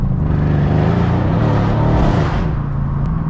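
A 650 hp Mercedes-AMG C63 roars loudly and close by, its engine note rising as it revs hard, a deep rumbling growl sustained for about three seconds before easing off, with no talk over it.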